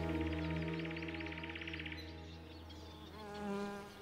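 Wild bees buzz loudly near a bee hotel, a steady droning hum from one close insect that wavers and shifts pitch as it moves, with a second swell of buzzing near the end.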